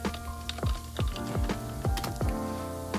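Rapid, uneven keystrokes on a computer keyboard while code is typed, a steady close-up clatter of individual clicks with no talking.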